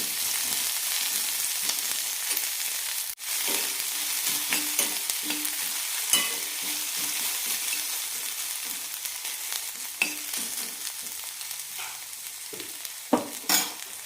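Gooseberry chutney ingredients sauté in a hot pan, a steady sizzle running throughout while a spoon stirs and scrapes with occasional sharper clacks against the pan; no one speaks.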